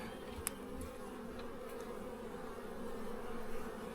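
Honey bees buzz in a soft, continuous hum during a beehive inspection, with a few brief louder passes as individual bees fly near.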